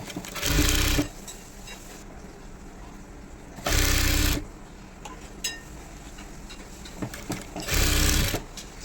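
Sewing machine stitching elastic onto pants, stretching the elastic from the back, in three loud bursts of rapid whirring stitching separated by quieter pauses with small handling clicks.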